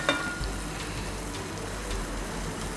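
Eggs fry and get stirred in a pan, a soft continuous sizzle with faint scraping and crackling, quiet and close with no talk.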